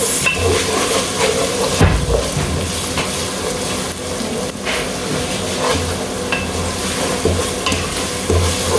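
Onions sizzle loudly while they fry with ginger and garlic in a pot, with repeated scraping and clattering from a stirring spoon over a constant hiss.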